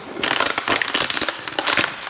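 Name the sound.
crushing a plastic PET bottle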